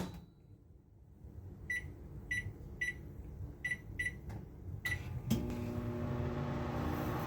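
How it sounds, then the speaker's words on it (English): A microwave oven runs while heating a sugar and vinegar solution, giving a steady hum that rises when the heating starts. Several evenly spaced beeps come first, and a few light clinks sound before the running drone. "Then I'm going to microwave this for several minutes"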